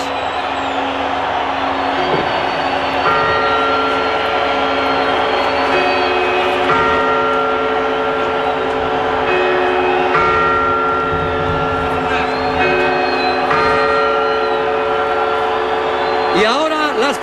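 Clock tower bells chime the quarters just before New Year at a 2005-2006 countdown, a sequence of ringing tones with long sustained overtones sounding one after another over steady crowd murmur, ending in a brighter burst near the end.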